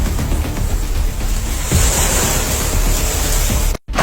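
Sea waves at a beach wash in as a loud, steady roar of surf mixed with wind, cutting off abruptly near the end.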